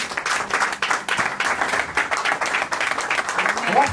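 A church congregation at a Christian wedding breaks into sustained applause with scattered cheers, dense clapping filling the hall at steady strength throughout, with voices mixed in.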